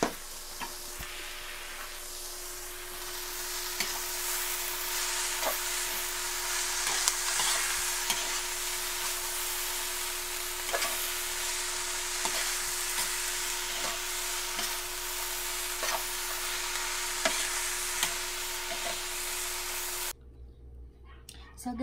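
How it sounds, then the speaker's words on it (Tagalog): Tofu frying in a pan for lumpiang gulay, with a steady close sizzle and occasional stirring clicks that continue until the sizzle abruptly stops near the end. "And finally, ang ating tofu or ang ating fried tofu."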